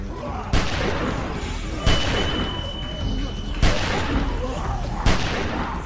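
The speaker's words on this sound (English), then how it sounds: "Okay, more shooting, guys." Gunfire in The Walking Dead video game: several sharp shots ring out at spaced intervals over a steady background of ambient game sound and effects, with a sustained tone briefly running between two of the shots.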